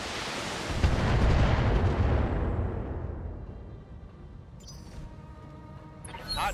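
Mech weapons in the RogueTech game fire on a Dasher, a heavy booming blast that rolls on and slowly fades, with faint clicks and small sounds near the end.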